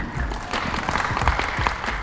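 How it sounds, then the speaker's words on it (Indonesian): Audience applause at a university student project showcase in Indonesia, a steady patter of many hands with a few sharper claps, fairly loud throughout. "Ya, itu tepuk tangan."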